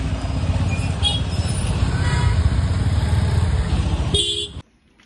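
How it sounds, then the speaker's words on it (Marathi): Road traffic in a heavy jam, with a steady low rumble of idling engines close by and short car horn toots breaking through. The sound cuts off abruptly near the end. "गाईस ट्रॅफिक लागलाय भरपूर"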